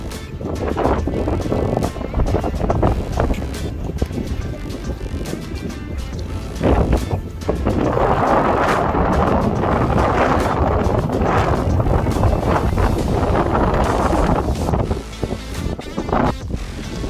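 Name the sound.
wind blowing in the desert during the Marathon des Sables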